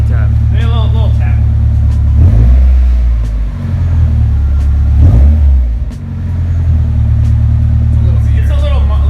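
A Nissan Silvia with a louder exhaust, engine cold and out of gear, idles then takes two short throttle blips that swell and fall back, loud and close, with a voice talking briefly near the start and end.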